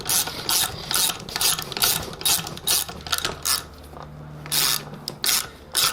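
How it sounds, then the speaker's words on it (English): A valve spring compressor is backed off on an LS cylinder head with a ratchet in quick bursts of clicking, close and crisp, separated by short pauses and a brief low hum. "now we can back off the spring compressor, and we can pull off our springs"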